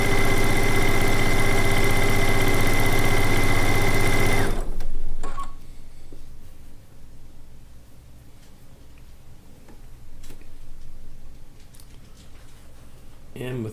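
A sewing machine runs a fast, steady stitching buzz through a Lacey Log Cabin quilt block for about four seconds and then stops, leaving quiet handling noises and faint room sound.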